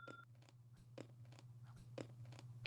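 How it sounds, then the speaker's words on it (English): A carrot is chewed right against a microphone, making sharp crunchy bites at a steady, roughly half-second rhythm over a low constant hum, close and quiet. "No, you're chewing into the mic."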